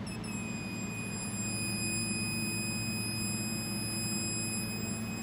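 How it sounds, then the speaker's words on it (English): A voltage tester beeps as it detects voltage on a wire, a steady high-pitched electronic tone sounding continuously throughout, constant and unbroken over a low background hum. "we know this will beep if it detects any voltage"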